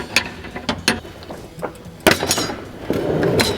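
A wrench works on a fuel filter fitting on a 1994 Firebird Trans Am, making several sharp metallic clicks and knocks, then a louder snap as the fitting breaks loose, followed by scraping handling noise.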